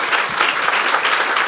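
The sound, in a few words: applause in church service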